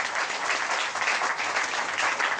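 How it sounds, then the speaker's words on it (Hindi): Congregation in a church applauding, dense sustained clapping filling the space at a steady loudness from start to finish. "खुदावंद के पाक रूह के लिए एक बार फिर तालियां।"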